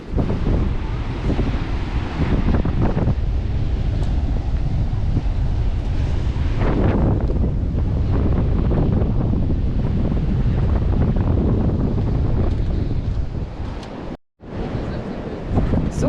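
Strong, steady wind buffets the microphone on a beach at Lakolk, Denmark, with surf rumbling beneath it, continuous and loud, cutting out briefly near the end.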